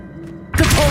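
The Accio summoning spell in the video game Hogwarts Legacy lands as a sudden, loud, thudding whoosh that sets in abruptly and holds as a bright magical burst after a moment of quiet.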